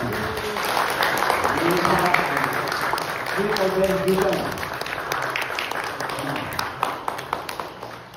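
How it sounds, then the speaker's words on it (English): At a Seventh-day Adventist church ordination service, the congregation applauds newly ordained deacons, a moderate, somewhat distant patter of clapping that carries on for several seconds with voices talking over it and gradually thinning out. "Let's give them a round of applause."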